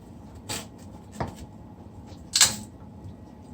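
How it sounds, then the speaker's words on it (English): A knife chops through a big carrot on a cutting board in three separate, sharp cuts spaced over a few seconds, close up, with quiet room noise between strokes. "This carrot is a big carrot, so you can cut, or you can cut them in four too, like this"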